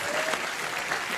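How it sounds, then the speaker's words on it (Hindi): Studio audience at a Hindi comedy talk show applauding in a short, steady burst of clapping throughout, fairly close and even in level, with no talk over it. "तालियां हो जाए यार।"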